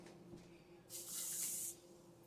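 Two cups of water poured into a cooking pot with uncooked white rice, a bright splashing rush of about a second standing out against quiet kitchen background.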